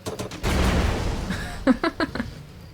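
A deep rumbling blast swells and fades, followed by a quick series of four or five sharp pops, like explosions and gunfire in Age of Wonders: Planetfall on PS4 Pro, with no talking.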